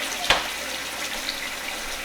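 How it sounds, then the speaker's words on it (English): Hot water runs from a tap over a sealed latte pod, a steady hissing splash with one brief clatter near the start and a muffled voice in the background. "run hot water over sealed latte pod for 10 seconds"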